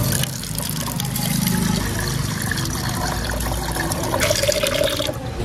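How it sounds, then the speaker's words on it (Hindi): Tap water runs steadily into a metal lota pot, a close continuous splashing and trickling that changes pitch toward the end as the pot fills. "ये लोटे में पानी भरना है तो पानी भर लेते फटाफट"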